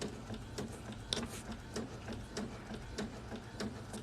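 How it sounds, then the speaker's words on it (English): A sublimation printer runs a print job, its head shuttling with steady rhythmic mechanical ticks and clicks about every half second over a constant low motor hum, close and moderately loud. "All you have to do is just hit print and it prints it out for you."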